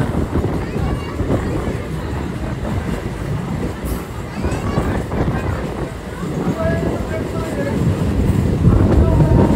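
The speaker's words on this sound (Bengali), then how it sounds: "দেখো আমি এখন লোকাল ট্রেনে যাচ্ছি, পাঁশকুড়া থেকে 11টার ট্রেন ধরেছি।" A local train on the Howrah to Digha line runs steadily with broadband rumble and rattle, growing slightly louder toward the end, with a voice talking over it.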